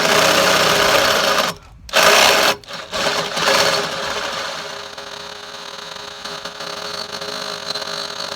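A power tool bores out a control linkage hole on a 1976 Case 450 crawler, whirring loudly and steadily up close, briefly stopping twice early on, then grinding on continuously.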